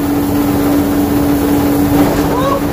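A rice polishing machine turning brown rice white hums steadily, droning continuously with a constant tone close by without pause.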